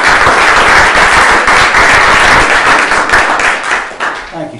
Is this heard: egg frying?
no